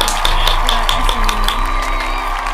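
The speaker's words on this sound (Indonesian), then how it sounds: "Tepuk tangan untuk Seluna." Audience applause with some cheering at the close of an Indonesian podcast about writing, a steady crowd clapping wash lasting throughout, fairly loud and near, with a few sharper claps standing out.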